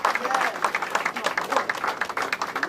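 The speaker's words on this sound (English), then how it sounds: "So let's just give a round of applause for waking up this morning, being healthy and happy." An audience at a mayoral victory gathering in Dolton gives a round of applause, with moderately loud, uneven clapping from many hands and faint crowd murmur underneath.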